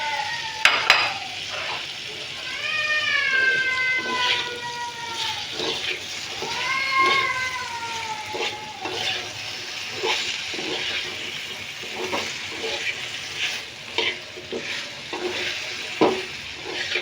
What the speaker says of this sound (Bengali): একটু নেড়ে চেড়ে ঢেঁড়সটা দিয়ে দিলাম